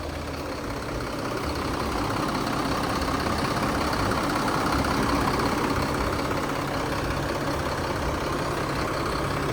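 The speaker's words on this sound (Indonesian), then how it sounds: "Suara mesinnya masih halus banget ya." An ALS intercity bus engine idles with its engine cover opened at a stop check on the Medan route, a steady low rumble that rises slightly after the first second and holds evenly, with no talk.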